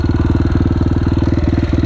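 A motorcycle engine putters at nearly closed throttle while riding uphill, a loud, close, rapid, even thumping pulse that runs unbroken for two seconds.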